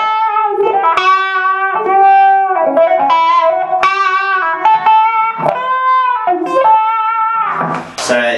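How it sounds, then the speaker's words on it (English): Electric guitar with a wah effect plays through a Marshall Class 5 amp in a continuous, loud melodic phrase of sustained, sweeping notes, heard up close with no talking over it. "I'll put a bit of wah in it as well, so you can get a bit of a tone of it like that"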